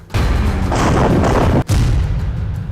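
An Israeli tank exploding in the Gaza war, heard as a heavy, rumbling boom with a deep roaring blast that sustains, briefly cuts out and continues, loud and without voices.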